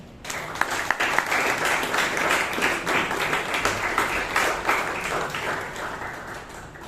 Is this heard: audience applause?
yes